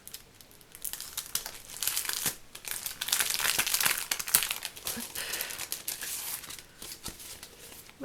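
Crinkly plastic packaging around a stamp and die crafting set is torn open and unwrapped, a loud, continuous close-up rustling and crackling with sharper tearing moments throughout.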